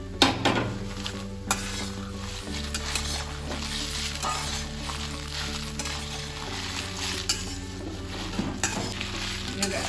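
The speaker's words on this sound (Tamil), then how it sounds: "விடாமல் கிளறிட்டே இருங்க, கருவக்கூடாது." Coriander seeds and dried chillies are dry-roasted in a pan for kosthu podi and stirred constantly. Rustling, rattling stirring and scraping continue without a break beneath a steady low hum, with occasional louder knocks of the utensil against the pan.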